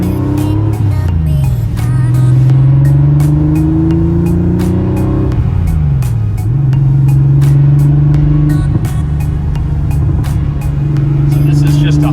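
A Porsche 911 Carrera Targa is driven hard around a residential neighborhood, its engine loud and close, rising in pitch through each gear, dropping at shifts and climbing again, while people talk over it.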